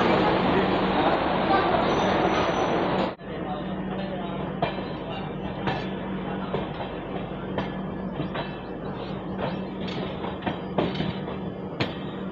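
Triveni Express train number 15074 pulls out of Bareilly Junction, a steady dense rumble of carriages with repeated rail clicks and knocks, close and continuous after a brief dip near the start.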